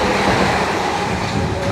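A Class 444 South West Trains electric unit on the London Waterloo to Weymouth service runs through Eastleigh station, giving a loud, steady rumble and rush of wheels on rails with no talking.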